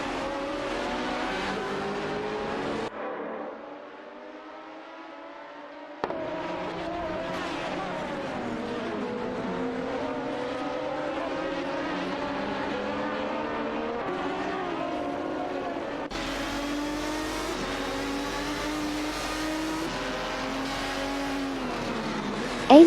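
Racing cars in an AI-driven video game race speed past with whining engine tones that climb and fall in pitch, a steady stream of overlapping passes and revs.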